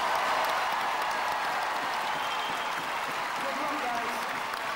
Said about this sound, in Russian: Громкие аплодисменты для наших участников.